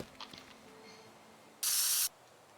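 A spray can fires in the Teardown video game: one steady, loud hiss of about half a second, close and on its own, after a few faint clicks.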